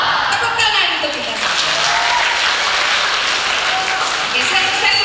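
A crowd at a church youth jamboree claps and cheers together, loud and continuous throughout, with voices mixed into the applause.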